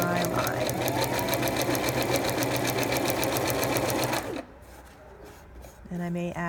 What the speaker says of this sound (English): All I have to do is sew right over my line.